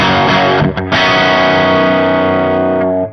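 An electric guitar chord through an EarthQuaker Devices Bows treble booster pedal rings out with a bright, distorted, nasal tone, briefly choked once, then sustains loudly before fading at the end.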